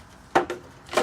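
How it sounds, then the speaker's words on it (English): Cutting around a plastic plant pot gives three short, crisp snips or crunches of plastic, close and fairly loud, spaced irregularly within one second. "now I'm going to cut around this plant, this pot."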